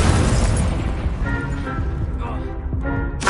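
Incendio fire spell cast in Hogwarts Legacy, a dense roaring burst of flame with booming impacts layered over busy game combat sounds and voices, loud and continuous throughout.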